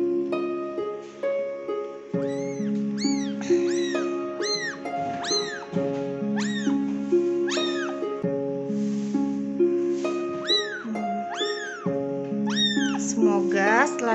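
A motherless baby kitten meows repeatedly in high, plaintive cries, close up, over steady background music.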